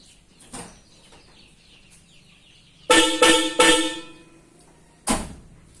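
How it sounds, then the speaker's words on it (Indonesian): Five modified horns on a Mitsubishi L300 truck sound several loud, brassy blasts together in three quick honks, then one more a moment later, close by and harsh. "saya lakukan modifikasi dengan menambah 5 klakson"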